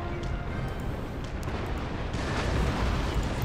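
Naval cannon fire from warships in the strategy game Empire: Total War, a dense, continuous rumble of overlapping booms and blasts that swells slightly louder toward the end, with no talk.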